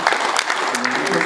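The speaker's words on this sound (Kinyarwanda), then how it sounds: "tubongera amashyi menshi cyane" Wedding guests clap for a short burst, close and lively, with a voice talking over the clapping toward the end.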